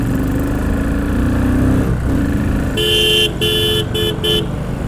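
A Royal Enfield Continental GT motorcycle pulls away from a green light on a road ride, its engine drone rising steadily and loudly, with a few bright horn-like tones breaking in near the end.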